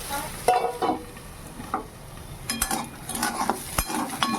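Sliced teasel gourd frying in a pan on a stove is stirred with a utensil. Scraping clinks and taps sound at an uneven pace over a low, steady sizzle, close up, with no talking.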